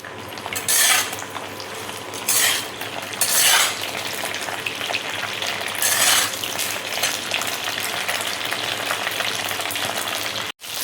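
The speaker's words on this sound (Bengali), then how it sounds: "এবার আমি ভিন্ডিটা দেখো তেলের মধ্যে দিয়ে দিচ্ছি।" Okra (bhindi) drops into hot oil over ginger-garlic paste and fries with a continuous close sizzle, while occasional louder hissing bursts and metal-utensil clinks from stirring break through.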